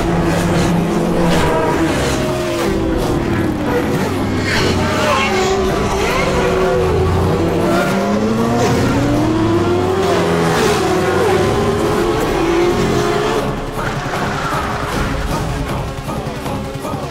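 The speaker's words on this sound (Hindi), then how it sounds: "ये तो बाइक रैली है सर।" Engines of a large motorcycle rally of about 500 bikes roar together in a loud, continuous drone, with rising and falling revving tones over the whole stretch and a slight easing near the end.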